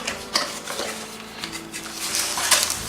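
Plastic packaging and cardboard rustle and clatter as a Preethi Turbo Chop kitchen chopper is unboxed, with close, steady handling noise and a few sharper knocks, no talking.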